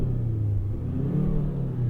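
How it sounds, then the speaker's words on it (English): Artificial engine sound played through the cabin speakers of a 2024 Hyundai Sonata, a steady low, mid-loud rumbling drone that holds for about two seconds with no talking over it. "then we get a little bit of engine noise coming through the speakers"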